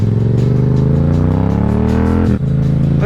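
Yamaha MT-07 motorcycle engine revs hard and close, a loud, deep, rumbling pitch rising steadily. After a brief blip near the end it drops back to a heavy idle-like growl.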